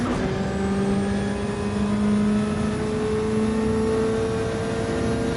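Race car engines in Gran Turismo 7, a Supra and a WRX, droning at high revs down a straightaway with steady rising pitch, loud and continuous.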